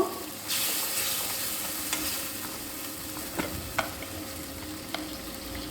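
Green chilli paste with a splash of water sautés in a pan for pakora jhal, a soft continuous sizzle and hiss with a few light clinks of a spoon stirring.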